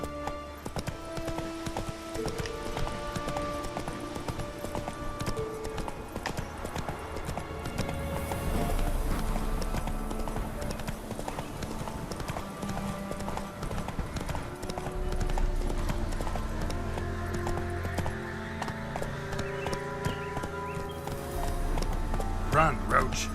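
Roach, the horse in The Witcher 3, gallops with steady clip-clopping hooves and an occasional whinny over game music and ambience, while a voice speaks intermittently.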